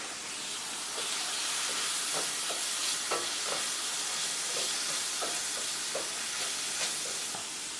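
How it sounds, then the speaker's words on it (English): Garlic, peppers and onions sizzle in a pan for a hamburger mac casserole, a dense continuous hiss with scattered light clicks and scrapes of stirring, near and steady throughout. "now that the garlic's had a chance to start to simmer in there"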